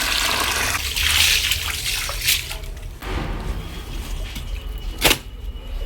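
Water runs from a tap into a container in a steady splashing rush, with a few louder knocks and clatters over it.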